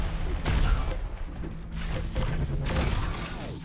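Void cannon fire in the arena shooter Quake Champions: a rapid burst of sharp, crackling weapon blasts with shattering impacts, mixed with other game effects and quiet commentary voices underneath.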